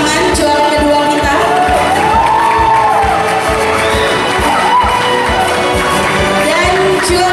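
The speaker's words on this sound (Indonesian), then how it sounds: "kita kasih tepuk tangan juara kedua kita" A crowd at an Indonesian Independence Day thanksgiving service cheers and claps loudly for a second-place fried rice contest winner, a dense continuous roar of voices, whoops and applause.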